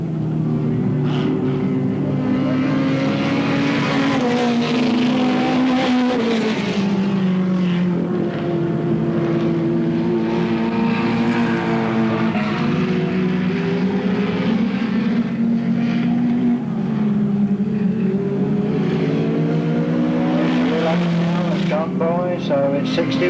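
Racing cars lapping Alwalton Raceway in 1983, a continuous loud engine roar rising and falling as the field passes, with a commentator talking over it throughout.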